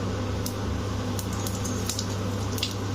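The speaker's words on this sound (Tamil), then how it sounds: "கூடவே சீரகமும் சேர்த்து பொரிய விடுங்க" Black pepper and cumin frying in ghee, a continuous soft sizzle with scattered small pops and crackles, close and steady with no voices.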